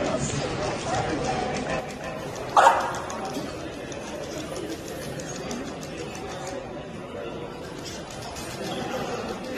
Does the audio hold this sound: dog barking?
yes